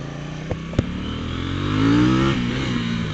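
KTM 790 Duke motorcycle doing a launch-control start in track mode with traction control on, two quick clicks then the engine note climbing steadily in pitch as it accelerates hard, loud and close with wind rush.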